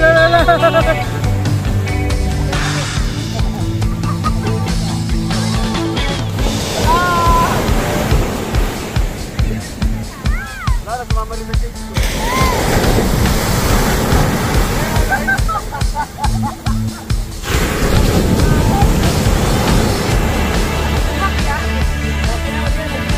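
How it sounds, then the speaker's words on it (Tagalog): Strong ocean waves crash on the shore at a beach in Zambales, heavy continuous roaring surf with surges and rushes of water, loud and close, with music playing and voices heard in places. "grabe palakas na palakas yung alon"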